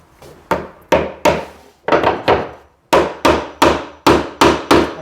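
A hammer knocks a wooden riser of a winding staircase into place during glue-up, landing about a dozen sharp, loud wooden blows in uneven clusters, each ringing briefly.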